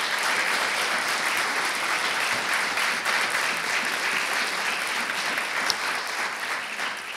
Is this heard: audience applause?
yes